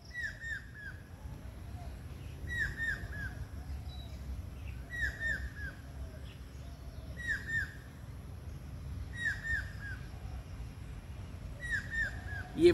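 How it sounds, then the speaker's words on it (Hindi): Several kinds of birds, including mynas and parrots, call outdoors, with repeated sharp chirps and squawks recurring every couple of seconds at moderate distance over a low background hum. "कितने तरह के पक्षी हैं,"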